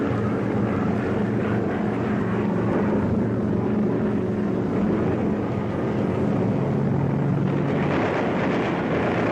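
WWII German warplanes fly over the French coast, their propeller engines making a continuous, heavy droning roar that holds steady for several seconds and swells slightly near the end.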